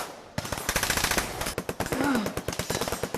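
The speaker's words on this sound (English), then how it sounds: "All call signs, covering fire now" Sustained bursts of automatic gunfire from military call signs laying down covering fire, rapid close cracks running without pause; a voice briefly calls out partway through.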